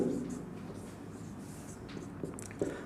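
A pen scratches across paper while working a geometry problem on a right isosceles triangle, giving soft, steady writing strokes with a few firmer taps, heard quietly under a low voice.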